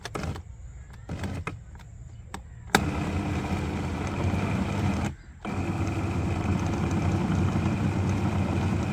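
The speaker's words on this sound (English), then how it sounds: "The process begins by placing these kitchen scraps in a blender." Kitchen blender whirring as it blends food scraps with water, starting with short stop-start bursts, then a loud steady motor drone with one brief pause before running on.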